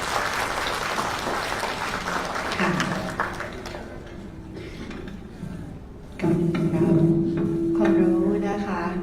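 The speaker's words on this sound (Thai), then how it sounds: "ขอเสียงปรบมือให้กับวิทยากรทั้ง3 ท่านค่ะ" An audience at a public policy forum in Lampang applauds three speakers. Moderate clapping comes first, then a voice speaks over the thinning applause, and a second burst of clapping blends with talk.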